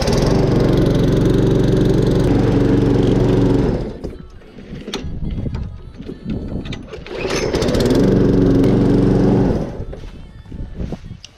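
Petrol lawn mower engine just started without priming, running loud and steady, dipping to a rougher lower idle in the middle before revving up again, with some background noise in the quieter stretches.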